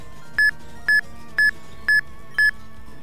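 Five evenly timed electronic beeps from Eon Timer counting down during Pokémon Ruby, Sapphire and Emerald RNG manipulation, sharp and steady, sounding alone over quiet game music with no talking.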